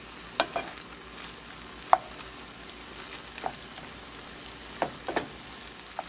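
Sauce with eggs cooking in a pan over medium-low heat, a soft steady sizzle broken by a few sharp clinks and scrapes of stirring, close and fairly quiet with no voices.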